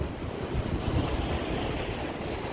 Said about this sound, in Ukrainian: Тут дуже потужні сильні хвилі, дуже потужні.